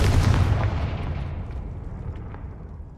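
In Hogwarts Legacy, the Confringo fire spell goes off as a loud, close explosive boom with a heavy low rumble that decays over about three seconds.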